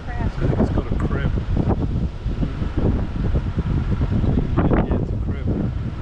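Gusty wind buffets the microphone at Burrum Point beach over choppy water, a steady low rumble running throughout beneath a voice speaking.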